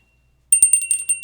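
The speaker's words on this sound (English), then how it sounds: "Hear that bell ringing?" After half a second of silence, a small bright bell rings in a quick run of about six close, clear metallic dings.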